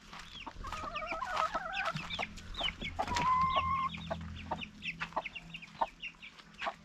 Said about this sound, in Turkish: Civcivlerin sesi nereden geliyor?